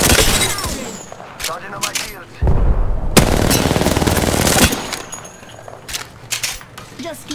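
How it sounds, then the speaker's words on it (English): Rapid bursts of automatic gunfire in a video game, loud and close, with dense sustained volleys around the middle and scattered sharp shots and metallic clinks around them, while a player talks. "I'm spotted. Taking fire."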